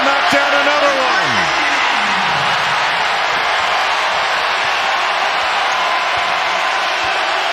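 A crowd roars through a Duke at Clemson college basketball arena game, holding a loud, broad and sustained wash of cheering. A descending whistle-like tone cuts in briefly near the start.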